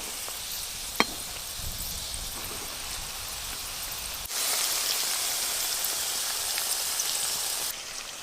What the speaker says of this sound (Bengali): সব পিঠেগুলো ভালো করে ভাজা হয়ে গেল।